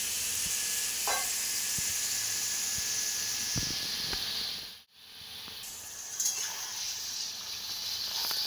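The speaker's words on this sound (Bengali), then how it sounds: "এঁচোড়টা এবার মশলার সাথে ভালো করে কষাচ্ছে।" Boiled green jackfruit being sautéed with spice paste sizzles loudly and steadily with stirring scrapes and clicks, cutting out briefly midway before resuming, no talk.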